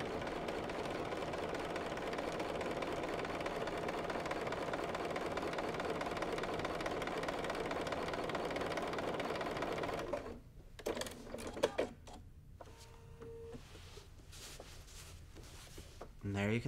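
Home sewing machine with a walking foot quilting along masking tape, a steady fast mechanical whir for about ten seconds, then stopping as fabric is handled and a person talks.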